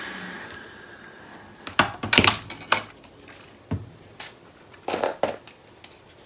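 Paper image being trimmed down for a card, a series of close, crisp snips and crunchy cuts coming in irregular bursts, with quiet pauses between them.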